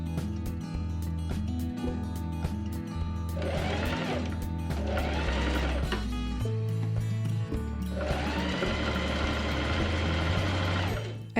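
Sewing machine stitching pockets onto the side seams of sweatpants, with bursts of steady rapid needle clatter separated by short pauses and mechanical clicks, close and alone.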